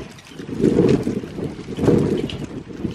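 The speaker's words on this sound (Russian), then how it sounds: "Ветер какой у нас." Wind buffets the microphone in low, rumbling gusts, swelling twice and easing in between, with no talking.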